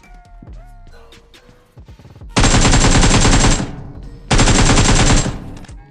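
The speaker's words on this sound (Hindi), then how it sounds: "इसका टीममेट जो कि बाहर था वो मुझ पे करता है फायरिंग" Gunfire in a mobile battle royale game played on an iPad Mini 5: after some quieter game sounds, two long, loud bursts of rapid automatic fire ring out, separated by a short pause.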